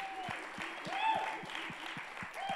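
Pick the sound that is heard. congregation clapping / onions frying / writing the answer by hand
congregation clapping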